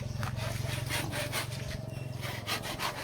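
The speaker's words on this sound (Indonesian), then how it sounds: "Ini gergaji dulu." A hand saw cutting through thick wood in a house-building setting in Bulungan, North Kalimantan, quick regular back-and-forth rasping strokes close by, with a low steady hum underneath.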